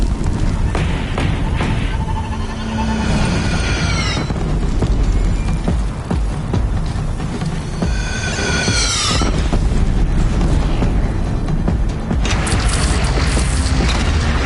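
Cannons fire in a video game battle: repeated heavy booms roll over a constant loud rumble of battle noise, with sharp descending whistles rising above the din at intervals.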